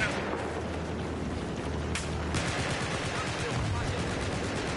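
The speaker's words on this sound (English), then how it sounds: "There's a lot of bullets flying toward wherever we were standing." Battlefield 4 played on PS4: dense automatic gunfire rattles continuously at close range with heavy bursts and bullets flying, loud and unbroken from start to finish.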